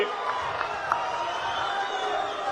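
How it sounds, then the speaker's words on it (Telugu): A crowd at a Telugu political rally for the Auto Driver Seva Scheme gives a sustained, fairly close roar of cheering and clapping. It holds steady throughout with a few brief shouts, and no single voice stands out. "గట్టిగా చప్పట్లు కూడా చెప్పండి"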